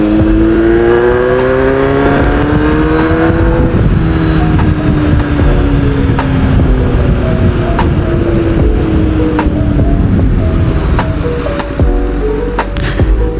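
A Kawasaki Z800 engine heard while riding, loud and continuous, with the pitch climbing under acceleration, then falling as the throttle eases and building again through the gears, with wind rush underneath and no speech.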